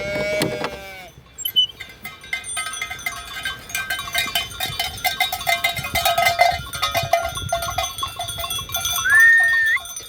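Goats and sheep being fed corn in a barn, with jangling cowbells clinking steadily, bleats close by at the start and near the end, and a busy clatter of animals moving about.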